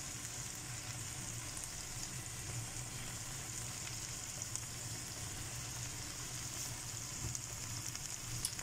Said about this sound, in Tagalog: Hintayin natin maluto yung kamatis, guys.